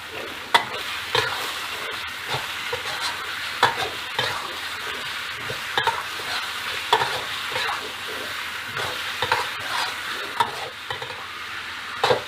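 Pork belly stir-fried in a pan over medium-low heat, with a steady sizzle running throughout and frequent scraping stirs of the spatula rising above it, close and alone with no talk.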